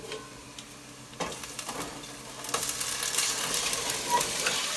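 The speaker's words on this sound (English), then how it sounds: "Okay, put the tomatoes in." Tomatoes added to a pan of softened onions and garlic, a soft sizzle that swells louder after a clatter, with stirring scrapes close by and no talk.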